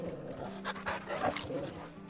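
A dog pants in the video game Final Fantasy XVI, quick, soft breaths with faint whimpers, quiet and close over low background ambience.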